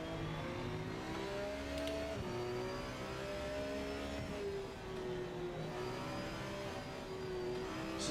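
Race car engine in the Project Motor Racing game revving steadily with sweeping pitch changes, loud and continuous throughout, no talk.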